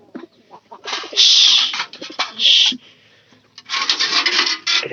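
Soft pigeon coos and rustling wing or feather sounds come in bursts, close by, with short quiet gaps between.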